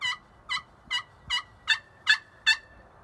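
A Buck Baits Game Day slate friction turkey pot call gives a run of seven rhythmic yelps, steady and close, each note clear against a quiet background.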